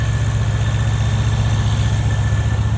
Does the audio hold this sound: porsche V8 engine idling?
yes